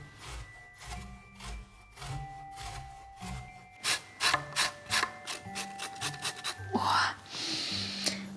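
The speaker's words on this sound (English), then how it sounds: "Grating is something that you do not want to do fast because this grater, especially the coarse one, is super sharp." Parsnip being rubbed over a sharp coarse grater in a kitchen, a run of rhythmic rasping strokes that speed up midway, close and fairly loud with faint background hum.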